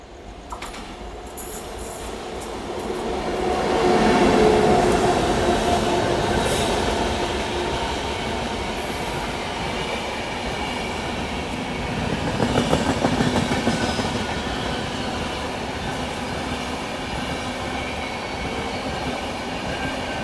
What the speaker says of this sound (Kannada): ಇಲ್ಲಿಂದ ಯಾವುದೋ ಒಂದು ಟ್ರೈನ್ ಬರ್ತಿದೆ